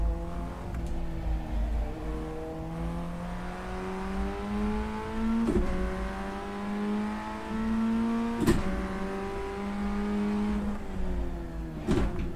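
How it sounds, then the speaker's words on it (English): A race car's engine drones on the track with a steady, whining pitch that climbs through the gears, punctuated by several sharp pops or passes, at moderate volume with no talking. "There's a car approaching."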